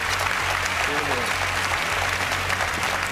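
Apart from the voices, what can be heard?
applause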